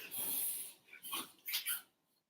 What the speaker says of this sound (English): my dog has a reverse sneeze